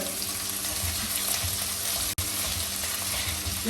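Ginger and garlic frying in hot oil give a steady, close sizzle that runs unbroken, cut by one very brief dropout partway through.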